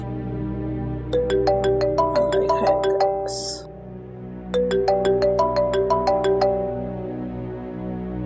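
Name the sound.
phone ringtone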